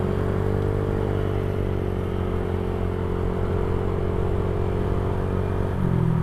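A motorcycle rides through the streets of Casablanca early in the morning. Its engine holds a steady droning hum close to the rider, with a slight rise in pitch near the end and no talking.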